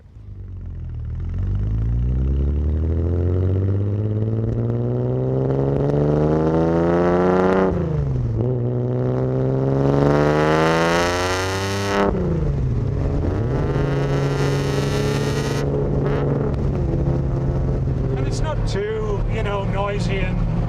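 A 1963 Jaguar E-Type Lightweight race car pulls away on a drive. Its engine roars loudly and rises through the gears, with each shift dropping the pitch before it climbs again, then it settles into a steady cruise.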